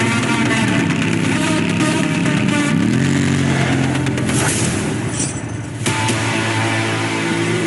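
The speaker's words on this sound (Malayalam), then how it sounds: "അപ്പോൾ അതാ ബൈക്കിൽ വരുന്നു" A motorcycle rides into a scene from the film Baasha. Its engine builds into a loud, continuous roar with a rising, revving pitch that holds steady throughout.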